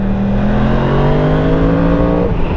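A 2017 Yamaha YZF-R1 sport motorcycle engine pulls hard under acceleration, its loud, close, steady roar climbing in pitch with rising harmonics over about two and a half seconds, with no voices.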